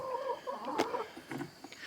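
Chickens clucking inside a chicken coop, a few short close calls scattered across the moment with a brief louder squawk in the middle over quiet background.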